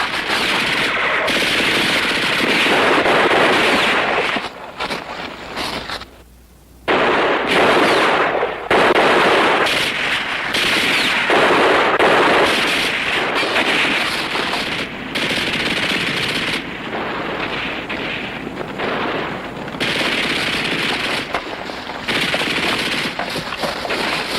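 Sustained machine gun fire in a wartime combat drama, dense rapid bursts close and loud for over twenty seconds, with only brief gaps between volleys.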